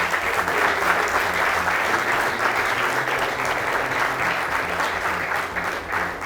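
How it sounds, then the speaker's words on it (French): Steady, full applause from a large audience at a public infrastructure presentation in Kinshasa, continuous dense clapping without pause, close and loud. "Applaudissez pour vous-même."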